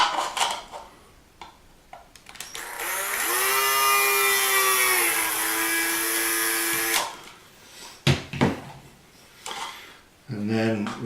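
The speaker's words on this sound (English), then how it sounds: "You need to drill a 3mm hole in the top." A power drill whines at a high, steady pitch for a few seconds, boring a 3mm hole into a plastic canopy, then stops; bursts of handling noise and clatter follow.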